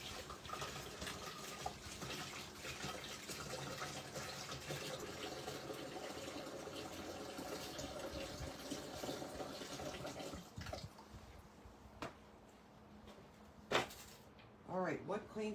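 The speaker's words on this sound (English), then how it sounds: "Let me rinse my nozzle quick." A paint sprayer nozzle is rinsed under running water, a steady splashing flow that cuts off near the end, followed by a few clunks and handling knocks, with voices faintly audible.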